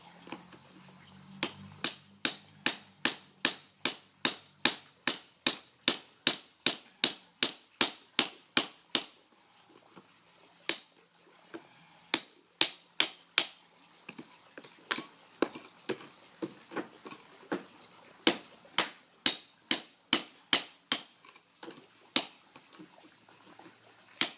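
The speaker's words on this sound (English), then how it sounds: "hammer and chisel come in handy" Sharp, regular taps of a hammer striking a chisel on stone while repairing a stone walkway, dozens of crisp blows in quick runs with brief pauses, close and clear with no talking.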